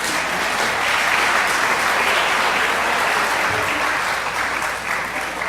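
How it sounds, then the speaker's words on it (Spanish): A lecture audience breaks into sustained, dense applause, a loud steady patter of many hands that holds evenly and tapers slightly near the end. "Un aplauso, por favor."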